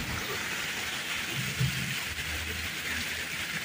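Steady, dense rain hisses continuously near a bridge, with a low rumble underneath and no pauses.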